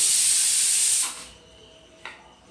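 Steam hisses loudly from a pot of potatoes and peas boiling on the stove, a steady close rush that cuts off after about a second, leaving a quiet tail with one brief clink.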